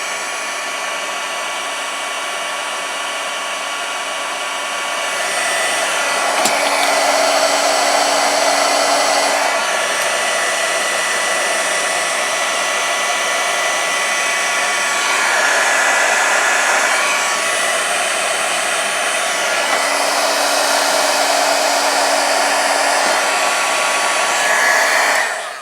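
A heat gun blows hot air to shrink heat shrink tubing onto the end of a coaxial cable, giving a loud, continuous, close whooshing drone whose pitch and intensity shift slightly as it is moved, with no talking.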